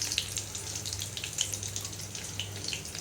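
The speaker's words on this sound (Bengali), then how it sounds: "তো এখন আমি উঠিয়ে আরেক বেজ ভাজতে দিয়ে দেব" Fish roe pakoras crackle steadily in hot oil, a dense fizzing hiss with scattered pops and a faint low hum underneath, close and fairly quiet throughout.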